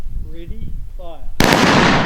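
Ceremonial rifle volley at an Anzac parade: a commander's spoken orders come first, then a single sharp, loud crack of simultaneous rifle fire that rings out with a lingering outdoor echo.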